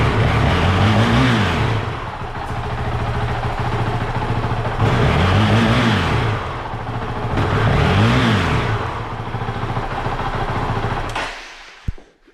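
A Honda CRF450RL motorcycle with a lean-running problem drones loudly up close, its engine rising and falling in three slow, repeated swells of revving before cutting off abruptly at the end.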